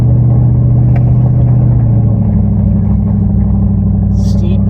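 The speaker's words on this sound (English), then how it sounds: "We're burning some fuel here now that we're chugging uphill." A truck the owner lives in chugs uphill on an old mountain trail, its engine a loud, steady low drone that shifts slightly in pitch partway through, with a faint higher sound near the end.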